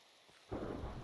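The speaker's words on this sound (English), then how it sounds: "It's raining again." Rain and thunder in the video game Minecraft: a quiet patch gives way halfway through to a sudden rumbling swell of thunder over a steady wash of rain, distant and low in level.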